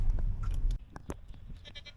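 Goats bleating along the Circle Trail Loop, a short nasal cry over outdoor background noise, followed by a few fainter bleats and rustles nearby.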